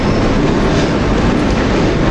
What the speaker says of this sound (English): here is a Braintree train, class 321 dusty bins